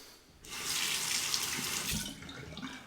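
A faucet runs to rinse a razor during a single-edge razor shave, a close, steady splashing rush of water that starts abruptly and continues at even strength, with no talk.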